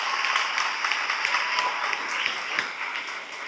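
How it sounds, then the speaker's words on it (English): Audience applause at the ceremonial opening of an exhibition celebrating fifty years of girls at Queen's College, following an original performance piece; dense, steady clapping from a sizable crowd, sustained throughout without speech. "I think we can give them another round of applause"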